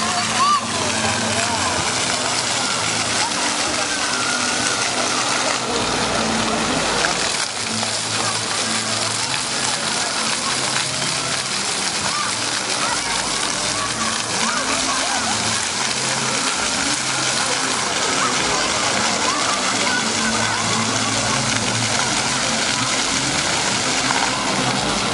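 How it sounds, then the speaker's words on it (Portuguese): Water splashes steadily in a small public fountain in Praça Mestre Orlando, Caldas Novas, a continuous loud wash of spray and droplets holding the same level throughout, with faint voices in the background. "Aqui uma pequena fonte de água na Praça Mestre Orlando."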